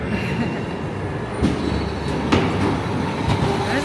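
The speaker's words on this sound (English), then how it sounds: "opted to use our ride ticket on the ghost train" A ghost train ride car rumbles steadily along rails with a continuous mechanical roar and a few sharp clanks and clicks.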